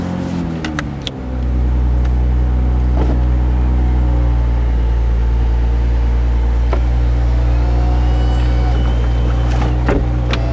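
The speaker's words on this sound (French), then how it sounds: "on va recapoter et rentrer la voiture à l'atelier" A BMW Z4 M40i G29 with an Akrapovic exhaust starts and settles into a steady, loud, close engine idle with a low drone, as if being moved into a workshop.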